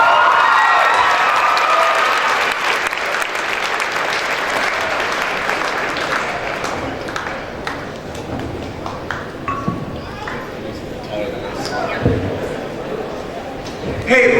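A school moving-up assembly audience breaks into loud applause and cheering, dense clapping that fills the hall at first and gradually thins out, with voices calling out and some talk over the tail end.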